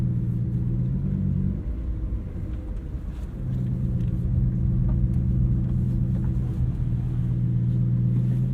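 Lamborghini Huracan setting off from standstill, a low steady engine rumble heard from inside, briefly dipping before settling back into a continuous drone as the car pulls away.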